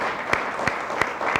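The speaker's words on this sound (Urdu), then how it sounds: "ذرا زور سے تالیاں بجائیں۔" A church congregation at a Sunday service claps loudly in a steady fast rhythm, with a few sharper accented claps standing out at regular intervals above the dense clapping.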